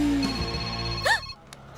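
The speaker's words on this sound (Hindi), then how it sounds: "घंटी बजी तो ये वाइब्रेट मोड पे क्यों चली गई?" A telephone rings briefly indoors, a short electronic ring that is quickly cut off, with faint voices around it.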